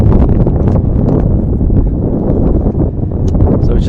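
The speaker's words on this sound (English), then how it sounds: "we just had a gust of wind in the commentary box" A strong gust of wind buffets the microphone in a cricket commentary box during an England Masters versus India Masters match, producing a loud, continuous low rumble and blustering that swamps everything for several seconds.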